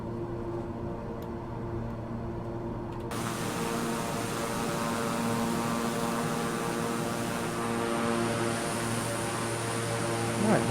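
A King Air 350i turboprop in Microsoft Flight Simulator drones steadily in the cruise climb, a continuous close engine hum with a strong tonal whine that swells a little after the first few seconds.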